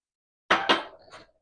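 Chicken wings are tossed in a bowl, giving two quick clattering knocks and a softer scrape. The sounds are close and isolated against silence.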